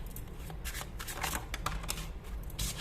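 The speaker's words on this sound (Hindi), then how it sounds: "शफल भी नहीं हो पा रहे कार्ड्स तो" Tarot cards being shuffled by hand, a run of quick papery riffles and soft flicks, close and fairly quiet.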